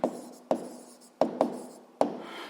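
Pen strokes on paper during a school physics worked problem: a handful of quick, close scratches, each starting sharply and trailing off, spaced irregularly with no voices.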